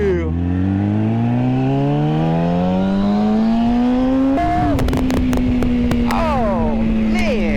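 A motorcycle accelerates hard on a Las Vegas road, its engine pitch climbing steadily through a long gear, then a shift and more revving, loud and close with wind noise throughout.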